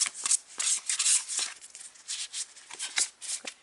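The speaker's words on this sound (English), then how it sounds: "So I'm going to shuffle the cards" Tarot cards being shuffled by hand, a close, soft series of papery riffles and rubbing bursts in an uneven rhythm, with no talking.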